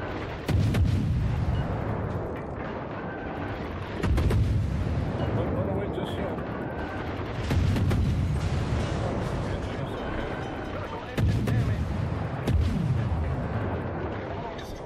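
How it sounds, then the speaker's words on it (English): Warship naval guns firing in a video game, four heavy booming salvos spaced a few seconds apart, each followed by a rumbling tail, with a voice talking in the background. "Concentrate fire on the designated target."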